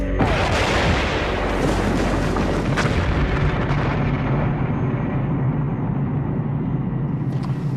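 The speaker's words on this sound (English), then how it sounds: "the Bangalore torpedo has blown a channel right through our barbed wire entanglement" A Bangalore torpedo explodes while blasting a channel through a barbed wire entanglement, a loud, sustained roaring blast that fills the whole stretch with rumbling debris and no talking.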